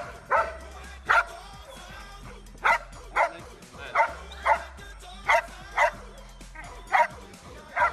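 A guard dog at a canine training school barks during a protection demonstration, giving about a dozen sharp, loud, close barks in an uneven, steady series with short gaps between them.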